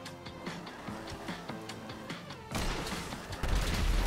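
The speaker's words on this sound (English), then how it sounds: "They're shooting us." Police gunfire in GTA 5 RP: rapid bursts of shots, moderately distant at first, then growing louder and denser in the last seconds, with no talk.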